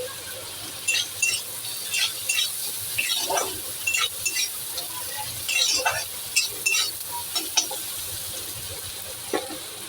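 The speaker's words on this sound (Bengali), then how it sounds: "পেঁয়াজটা একটুখানি ভাজা হবে।" Onion fries in a pan with a soft continuous sizzle, broken by repeated scraping and clinking strokes as it is stirred, close and fairly quiet throughout.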